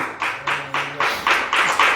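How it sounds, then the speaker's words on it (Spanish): Church congregation clapping in steady rhythm, about seven evenly spaced group claps close by and fairly loud, with no talking. "Dale un aplauso grande al Señor."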